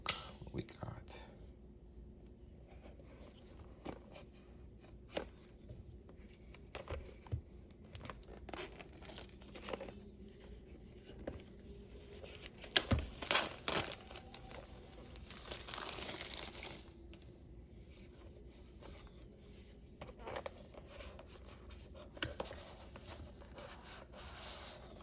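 A pink MagSafe power bank with a kickstand being unboxed, packaging rustling, crinkling and rubbing close by in soft bursts, with a louder tearing flurry midway, under intermittent quiet talk.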